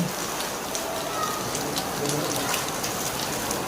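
Rain falls steadily in a dense, even hiss of drops striking surfaces, close and continuous, with no clear speech over it.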